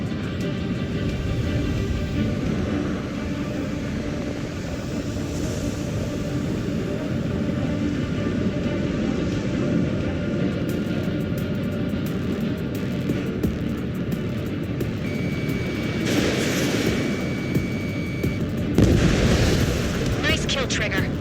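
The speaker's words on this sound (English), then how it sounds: "The clouds are screwing up the accuracy. Missile away." In Ace Combat 7, a jet aircraft's engine roars steadily throughout, while a missile launch and explosions swell into louder rumbling bursts toward the end, with radio voices talking over it.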